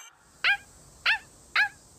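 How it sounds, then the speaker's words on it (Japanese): A small dog yaps three times in an even rhythm, each bark short, high-pitched and close, with quiet between them. "犬か、いいな。"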